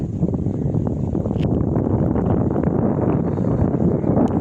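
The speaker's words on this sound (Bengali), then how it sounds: "খুব সুন্দর বাতাস এখানে" Wind blows by a wide river at Kumira on Sandwip, buffeting the microphone in a loud, continuous low rumble with no breaks.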